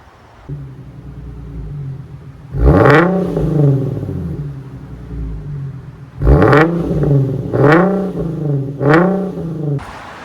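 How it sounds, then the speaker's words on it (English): A Nissan 370Z's VQ V6 engine revs hard several times through resonators and a muffler delete, a single long rev followed by three quick throaty bursts, loud and close, with a deep rumbling idle between. "I will show you guys how my exhaust sounds"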